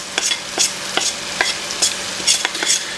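Flour is stirred into melted butter in a pan for a roux, with rhythmic scraping strokes of the utensil over a soft, steady sizzle, close and fairly loud.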